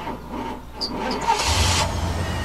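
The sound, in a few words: car engine starting in Life is Strange video game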